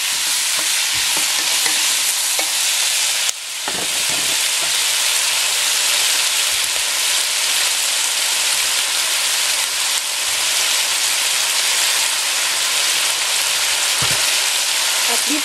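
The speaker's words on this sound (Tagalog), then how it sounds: "Haluin natin." Chop suey with white and purple cauliflower, seasoned with soy sauce, hisses loudly in a hot pan and is stirred, giving a dense continuous sizzle with a brief dip partway through and occasional utensil scrapes.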